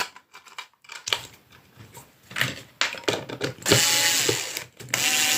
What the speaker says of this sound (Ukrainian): то ви викручуєте болт, вставляєте те, що вам треба.